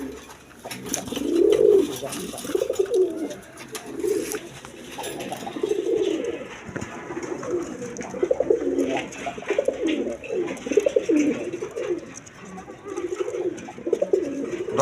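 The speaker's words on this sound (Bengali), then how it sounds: "দর্শক, এখানে এক পেয়ার রেড কালার গররা কবুতর আছে।" A pair of red Gorra Giribaz pigeons, a hen and a cock, coo in repeated low, rolling phrases throughout, close and fairly loud with no talking over them.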